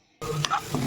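Chilli powder being stirred into okra curry frying in a pan. After a brief silence, a close crackling sizzle starts abruptly, and soft scraping from the stirring spoon cuts through it.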